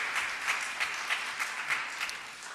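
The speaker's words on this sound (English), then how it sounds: "We can give a round of applause to them for that." Applause from a church congregation during a Unitarian Universalist Sunday service in Youngstown, a steady, fairly faint patter of many hands with slight pulsing swells, heard alone with no voices.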